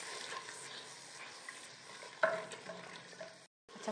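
Tomato, garlic and ginger masala with salt, chilli, cumin, turmeric and green chillies cooking in a pan, a faint soft sizzle with a light stir and one brief clink, briefly dropping out near the end.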